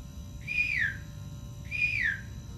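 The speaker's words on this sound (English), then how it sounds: "I'm whistling so that I can get his attention." A person whistles two identical sharp notes, each a short high tone that slides downward, spaced about a second apart over quiet background hum.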